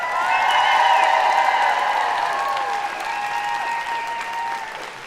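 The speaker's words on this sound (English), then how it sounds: "I invite you as graduates to applaud your family, friends, and faculty and staff who've helped you along the way." At a fall university convocation, graduates applaud their families, friends and faculty in a large hall: a broad, sustained wash of clapping from a big crowd that holds steady and slowly tapers, with faint cheers woven through.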